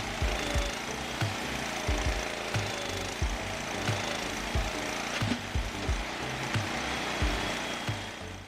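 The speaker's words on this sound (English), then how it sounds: "This machine is demonstrating its highly efficient wood cutting and splitting capabilities." An automatic firewood processing machine cuts and splits logs with a steady mechanical roar. Repeated woody cracks and thuds arrive at an even rhythm under the machinery noise.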